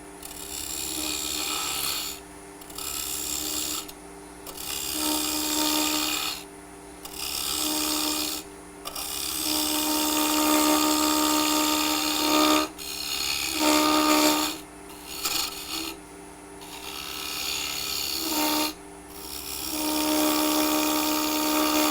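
Wood lathe hollowing out a wooden ornament, a steady loud scraping and rasping of the tool against the spinning wood, broken by short pauses as the cut stops and resumes.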